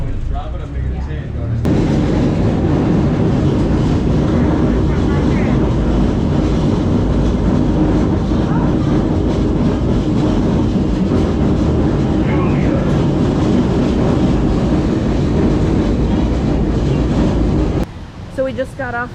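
Heard from on board, the St. Charles trolley in New Orleans runs loud and steady on its rails with a rumbling roar and rattling clatter, which drops off near the end, and people talk underneath.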